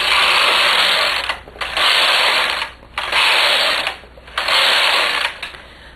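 A knitting machine carriage sweeps back and forth across four rows, each pass a loud rasping mechanical whir separated by brief pauses, steady and close.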